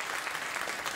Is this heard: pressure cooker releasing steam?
no